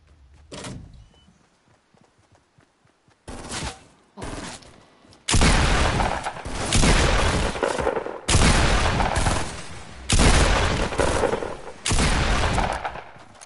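Heavy shotgun blasts in a shooter video game, a series of loud booming shots spaced roughly a second or two apart after a few fainter sounds, with no talking.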